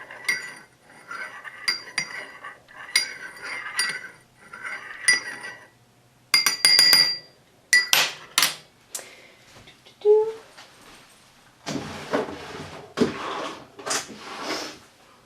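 Homemade rosemary, fenugreek and rose water leave-in conditioner being mixed in a glass container, giving repeated clinks and rattles in bursts, close and fairly loud, with no talking.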